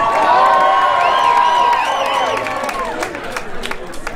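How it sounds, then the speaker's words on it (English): A pub crowd at an acoustic music set applauds and cheers, with whoops and shouts rising over steady clapping that gradually thins out. "everybody, big round of applause for Sam for making it go down."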